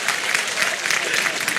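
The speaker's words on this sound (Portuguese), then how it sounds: "Uma salva de palmas" Brief burst of dense applause from a live audience at a motivational talk by Pablo Marçal, steady and full without speech over it.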